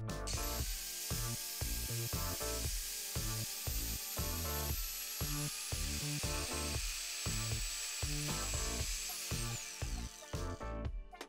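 A Gritec mini angle grinder with a speed dimmer, running unloaded, gives a thin high whine that slides steadily lower in pitch as the speed is turned down, over a loud rhythmic beat in the background.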